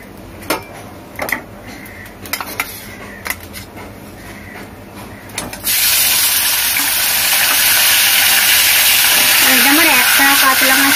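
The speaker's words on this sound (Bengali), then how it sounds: "এটা আমি চার পিস করে অল্প অল্প তেলে ভাজছি" Pieces of katla fish head frying in a little oil, with a few soft clicks and taps first, then a loud steady sizzle that starts abruptly and holds to the end.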